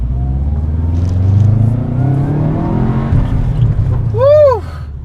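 A Subaru WRX with a 5-speed manual accelerates up close, its engine note climbing steadily in pitch, then a brief rising-and-falling whine near the end.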